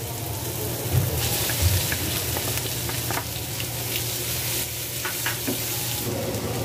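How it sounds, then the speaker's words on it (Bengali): Egg frying in a pan over a browned mixture of onion, tomato and chopped green chili, with a steady close sizzle and occasional stirring scrapes throughout, no talking. "আমার ডিম ভাজা হয়ে গেছে"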